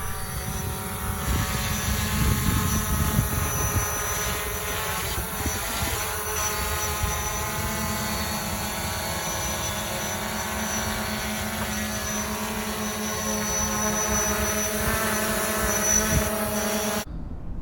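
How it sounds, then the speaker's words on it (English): A Holy Stone HS700D quadcopter drone's propellers buzz and whine steadily in flight with a high, tonal hum, loud and close, continuing without pause. "some people don't like noisy drones"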